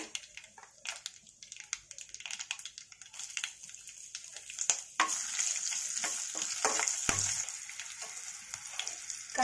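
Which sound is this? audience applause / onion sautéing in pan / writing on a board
onion sautéing in pan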